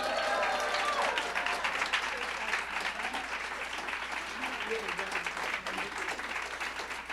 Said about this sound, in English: Let's send Brian to California with another round of applause.